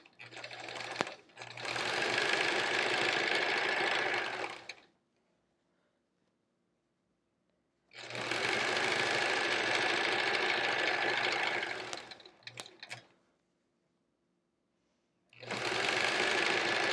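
A sewing machine stitches cotton muslin and rainbow quilt fabric for a triangle-patterned quilt, running in two long steady bursts of rapid whirring needle noise, separated by near-silence with faint clicks and handling sounds.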